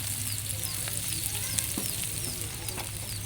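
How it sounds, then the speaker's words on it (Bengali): Chopped onions and chillies frying in a pan, a dense, bright sizzle with a constant low hum beneath and faint scattered clicks, steady and close with no talk. "পেঁয়াজ মরিচগুলো সুন্দর করে ভাজা হয়ে গেছে।"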